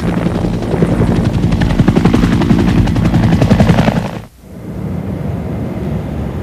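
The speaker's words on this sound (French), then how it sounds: "les hélicoptères sont une cible idéale et pour s'en tirer, ils doivent s'envoler au plus vite" A military helicopter's rotor thumps in a fast, loud, pulsing beat close by as it takes off, then the sound cuts and a steadier engine roar continues.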